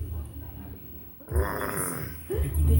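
A voice imitates a father's snoring with low, rough, grunting snorts, near and fairly quiet, in a home setting.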